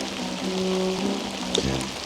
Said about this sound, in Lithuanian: Tu matai, kaip lyja.